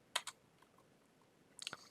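Computer keyboard keys tapped in two brief clusters, a pair of sharp clicks at the start and a quick run of four or five near the end, faint and with quiet gaps between.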